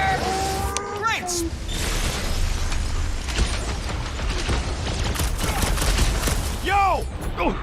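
Rapid bursts of gunfire and blasts ring out near a ship's reactor in the Guardians of the Galaxy video game, dense and loud throughout, with characters' voices and mechanical clatter mixed in.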